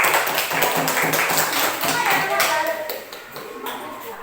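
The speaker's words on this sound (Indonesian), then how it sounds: "tepuk tangan dulu untuk kelompok 2" A class of students in an Indonesian teacher-training lesson claps together for a group that has just presented, a dense patter of many hands with voices mixed in.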